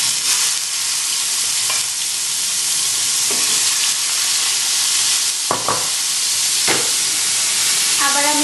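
Pieces of rohu fish fry in hot oil in a pan for a Bangladeshi fish curry, giving a loud, continuous close sizzle with occasional scraping stirs and no talking.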